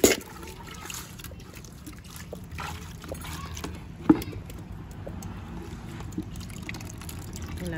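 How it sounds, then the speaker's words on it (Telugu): Water trickles softly onto soaked rice being prepared for rice-flour sweets, a faint, steady pour sitting low under background household noise with a couple of brief knocks. "ఇలాగ తడి బియ్యం నీళ్ళు పోస్తావు దాని మీద"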